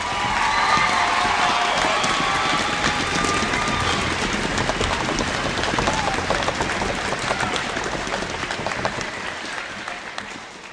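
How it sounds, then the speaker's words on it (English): Sustained audience applause fills a school auditorium after a 5th and 6th grade winter concert, dense steady clapping throughout, slowly thinning toward the end with faint crowd murmur beneath. "one more round of applause for all our musicians tonight"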